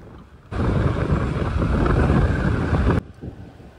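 Heavy wind rush buffets the microphone while riding a two-wheeler through town toward a nearby Domino's pizza shop, a loud roaring burst lasting a couple of seconds that cuts off abruptly against quieter background.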